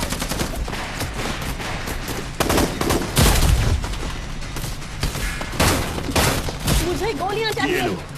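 Rapid bursts of automatic gunfire and heavy shots crackle through a dubbed action-war movie battle scene, loud and dense, with booming impacts and voices shouting over the fighting.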